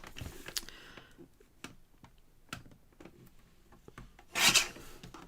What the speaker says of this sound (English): So I'm going to trim a little bit off this side.